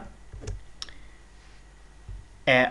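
A computer mouse clicks on an Install Now button during a software install on a laptop. Two or three sharp, quiet clicks sound close against low background hum, and a louder burst comes at the end.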